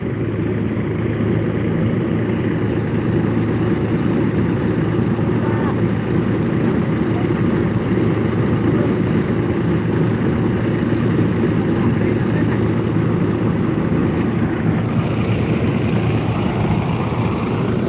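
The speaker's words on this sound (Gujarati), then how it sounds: "દસ આરપીએમ ઉપર હાલે ટ્રેક્ટર સાડા દસ અગિયાર ઉપર રાખવો પડે" A tractor-driven thresher runs continuously while separating cumin, giving off a loud, steady mechanical drone and engine hum that holds at a constant pitch throughout.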